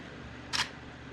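A single crisp camera shutter click from a sports photographer's SLR, close and brief, standing alone over a quiet background hum.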